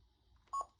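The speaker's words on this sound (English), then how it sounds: "some of these will do this beep on the test" A Thinkway toy in test mode gives a single short electronic beep, brief and clear against a quiet, low background hum.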